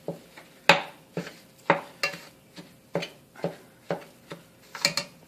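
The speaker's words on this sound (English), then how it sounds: "I'm going to break up my ground beef and incorporate my spices into the ground beef and the onions" A spatula or spoon scrapes and taps repeatedly in a hot pan, breaking up ground beef with onions and spices, in a steady rhythm of roughly one stroke per half second over a faint sizzle.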